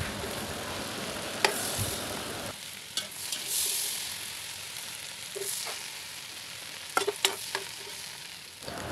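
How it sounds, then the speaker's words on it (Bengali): Cardamom pods sizzle in leftover oil from frying fish, a steady close crackle with a few sharp clinks of stirring or utensil taps, and no voices. "মাছ ভাজা তেলে দিয়ে দিলাম এখানে 2টো এলাচ"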